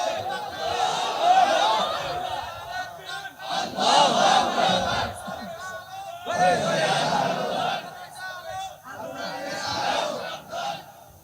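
A large crowd at an Islamic religious sermon gathering chants slogans in unison, four long loud roaring bursts separated by brief pauses, each swell of voices echoing through a wide outdoor space.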